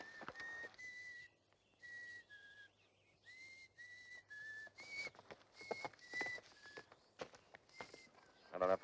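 A person whistles a halting, tuneless series of short notes with pauses between them, close by, with soft footsteps and clip-clopping in the background.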